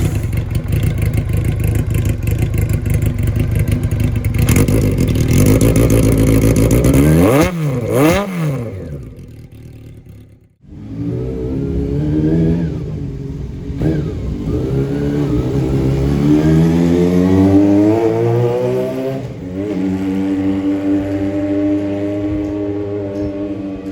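Honda CBX 750F motorcycle engine revving loudly and close, steady high-rpm roar, then a sharp drop to idle with wavering pitch, followed by repeated rising revs climbing and falling, no talk.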